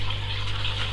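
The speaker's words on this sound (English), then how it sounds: "I'm going to put that into the tank, and then I discard the water" Aquarium water is poured out in a steady, full gush while fish are being added to a tank, a continuous splashing rush that lasts about a second.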